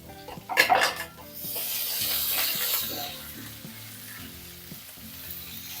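Curry leaves, slit green chillies and grated ginger hitting hot oil for a semiya upma, opening with a sharp clattering burst and a loud rush of sizzling that settles into a steady frying hiss.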